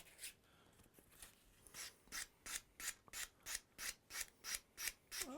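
Rhythmic strokes of fine-grade abrasive rubbed across a pool cue tip, a steady series of short, close rasping passes that grow regular and evenly spaced, faint and alone.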